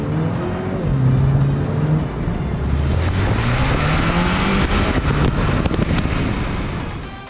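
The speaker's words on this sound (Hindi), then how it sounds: "सुनने में तो टर्बोचार्ज मोटर की बात अलग ही है।" A turbocharged 2021 Mini Cooper S Convertible in sport mode accelerates hard, engine note climbing in pitch through the gears with wind rush, loud and close, and no one talking.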